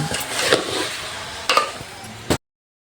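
Chicken fries in a pan over a wood fire while being stirred, a steady sizzle with a few louder scrapes and clatters of the spoon against the pan, close and alone, stopping abruptly near the end.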